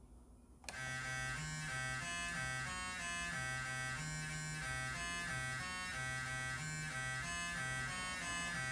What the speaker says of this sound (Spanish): Entonces voy a tocar una secuencia que suena así.